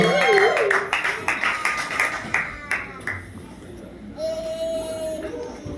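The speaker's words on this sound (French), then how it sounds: "Est-ce que nous pouvons encore applaudir?" Church audience applauding after a prayer, a burst of hand claps fading out over a few seconds, with voices and a child's cry mixed in near the end.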